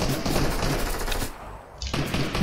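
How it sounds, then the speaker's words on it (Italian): Rapid gunfire rattles nonstop in a battle-pass shooter video game, dense automatic bursts coming from several directions, fairly loud and steady with only a brief lull before firing resumes. "da tutti i lati mi stanno sparando."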